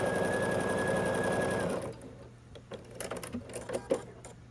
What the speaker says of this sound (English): we're going to sew along the other diagonal